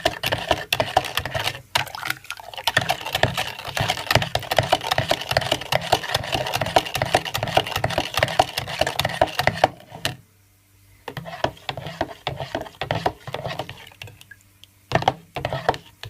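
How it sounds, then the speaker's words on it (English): A spoon stirs beetroot and strawberry juice with lime, lemon and sugar, a dense run of rapid close clinks and liquid swishes, pausing briefly near the end before a few last strokes. "Give it a stir."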